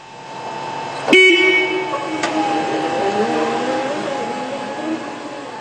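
A forklift horn sounds in a warehouse: one sharp, loud honk followed by a second shorter toot, then lingering machine and ambient hum.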